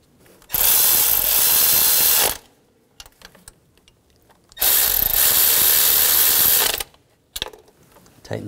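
Power tool running down the nuts on a bracket's studs while replacing the coolant temperature sensor on a 2013-2019 Ford Escape 2.0L four-cylinder, two loud sustained whirring bursts of about two seconds each, separated by quiet handling clicks.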